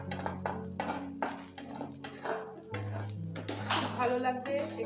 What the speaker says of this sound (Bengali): এটাকে ভালো করে আমি আরো ভেজে নেবো। 2 থেকে 1 মিনিট আপনারা নাড়বেন